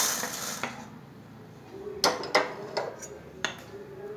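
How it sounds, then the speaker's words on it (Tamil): Roasted urad dal being moved from a pan onto a metal plate, heard as a few close metallic clinks and scrapes after a quiet stretch, with no one talking. "உளுத்தம் பருப்பும் வறுத்தாச்சு அதையும் நம்ம வந்து தாம்பாளத்தில் ட்ரான்ஸ்ஃபர் பண்ணிடுவோம்"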